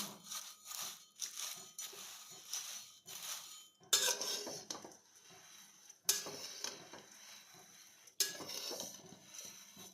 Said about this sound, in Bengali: খুবই সাবধানে নাড়তে হচ্ছে, কারণ নিচের কড়াইটা একদমই পুরো ভরে গেছে।